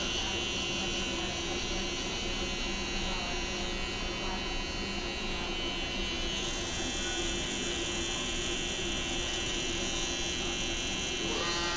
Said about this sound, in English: I'm just gonna bald out the back with the shaver